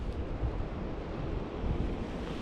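Water of the river Allondon rushes steadily and fairly loudly, a dense, unbroken wash of flowing water with a touch of wind, and no voices.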